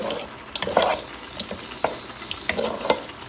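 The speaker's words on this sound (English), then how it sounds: "we're just gonna allow this to kind of fry in the oil with the tomato paste" Conch pieces frying in oil with tomato paste in a pot on a medium-high stove, a steady soft sizzle broken by repeated scraping clicks of a stirring utensil against the pot, heard close and without speech.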